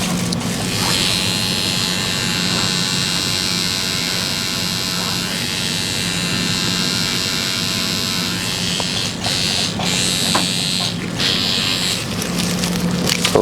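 A tattoo machine fitted with a round shader needle gives off a steady, even electric buzz close by. The hum holds for the whole stretch, with a few faint clicks and taps near the end.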